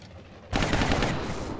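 A shot from an armor-piercing rifle in the video game XCOM bursts in abruptly after a quiet moment, then rolls into a loud, sustained, noisy blast that slowly fades.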